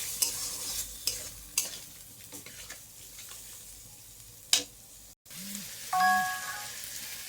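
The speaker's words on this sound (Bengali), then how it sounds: "দিয়ে আলুটার সাথে মশলাটা ভালো করে কষিয়ে নেব" Spice paste and potatoes stir-fried in a pan, a low sizzle punctuated by several sharp scraping strokes of a spatula, with a brief two-tone doorbell-like chime near the end.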